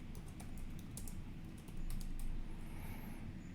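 Someone types a collection name on a computer keyboard, quick irregular key clicks in short bursts, close and fairly quiet over a faint background hum.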